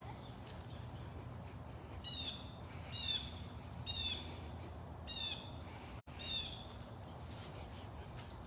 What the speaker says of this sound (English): I think it was a blue jay.